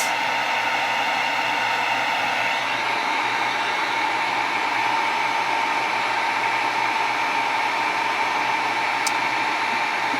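A heat tool blows hot air onto a faux ceramic bead made of clear Sculpey polymer clay, giving a steady, loud, close whooshing roar that holds evenly throughout with no talking.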